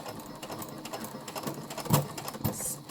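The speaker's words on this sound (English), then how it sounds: "you can hear where my needle seemed to have been having difficulty penetrating all layers of the thread" A sewing machine runs steadily, its needle stitching through the layered fabric of an envelope-style pillowcase, with a quick mechanical rhythm and a couple of louder thumps where the needle strains through the thick layers.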